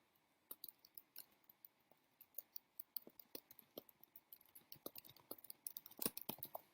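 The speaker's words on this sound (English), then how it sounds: "I hear typing." Sparse, irregular clicks and taps of typing on a keyboard, quiet and close, with uneven pauses between bursts and a slightly busier flurry near the end.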